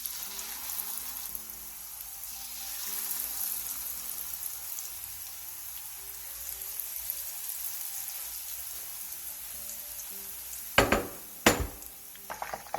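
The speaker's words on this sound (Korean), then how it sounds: "중약불에서 예열한 기름에 넣고 고기가 익을 때까지 튀겨주세요" Batter-coated meat deep-frying in oil preheated over medium-low heat, a soft steady sizzle throughout, ending with a few sharp clinks of utensils or a pan near the end.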